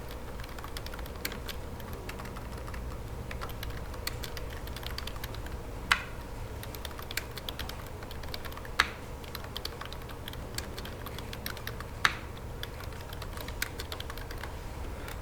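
Keys tapped on a computer keyboard while entering text in CAD software, a steady run of light clicks with a few sharper keystrokes, close and alone over a low hum.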